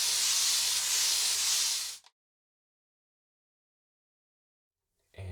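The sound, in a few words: shaving brush painting soap lather on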